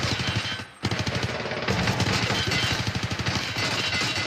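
Rapid automatic gunfire in Escape from Tarkov, a dense run of sharp, loud shots in quick rhythm. One brief pause near the start, then the firing goes on almost without a break.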